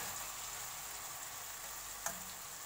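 Brain masala frying in a pan at home, a steady faint sizzle running throughout with one small tick of a utensil near the end, no voices.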